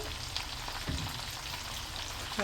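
Marinated pork pieces frying in a pan, a soft continuous sizzle and crackle at low level with a faint stir or two, no voices.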